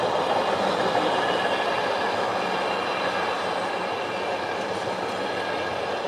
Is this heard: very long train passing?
yes